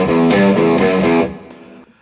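A distorted electric guitar in standard tuning plays a riff: loud, choppy chord stabs in a tight rhythm, then the sound cuts off and rings down to quiet.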